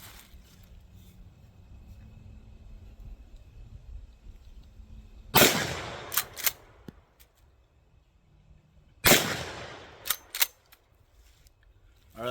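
Two loud, sharp blasts from a Remington 870 20 gauge pump shotgun with a rifled choke tube firing Federal Power Shock rifled slugs outdoors, spaced several seconds apart, each followed by quick mechanical clacks of the pump action.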